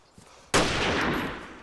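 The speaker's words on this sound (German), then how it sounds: "Der Schuss ist echt mächtig vom Longhorn. Der knallt ordentlich." A single loud Longhorn pistol shot in a zombie video game, a sharp close crack that rolls into a long, fading boom, preceded by a faint soft tap.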